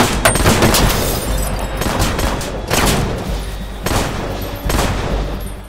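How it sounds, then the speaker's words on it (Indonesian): Loud gunfire rings out in an action heist film scene, with several sharp bursts of shots, the barrage repeating at intervals over a few seconds. "Opik yang tahu semua ini jebakan pun menembaki Matthias."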